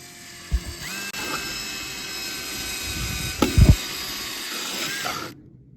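A power drill drives a screw down into a wooden base in a garage, whirring in short bursts with ratcheting clicks and a few knocks, up close.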